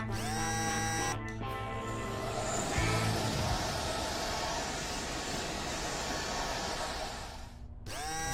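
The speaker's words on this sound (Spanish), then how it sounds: "Ahora para el paso final, los ventiladores." Cartoon car wash drying fans blast a steady, loud whooshing roar that runs for several seconds, framed by brief musical tones at the start and end, with no talking.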